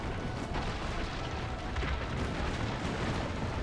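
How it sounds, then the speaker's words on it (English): A cannon fires at siege towers in Assassin's Creed Brotherhood, a dense, sustained roar of booming blasts and rumbling noise filling the whole stretch at high volume. "Ezio needs to man the cannon and fire at siege towers to protect the villa"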